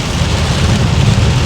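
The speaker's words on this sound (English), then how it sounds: "See, another one of those downpours." Heavy rain downpour pouring outdoors, a dense, loud, continuous hiss and patter of drops with no breaks.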